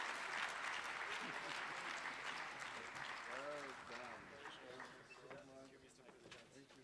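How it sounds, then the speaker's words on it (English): Audience applause at a South African industry conference's closing session, a dense sustained clatter of clapping that slowly thins out, with a voice speaking over it near the end. "Let's give them a big round of applause"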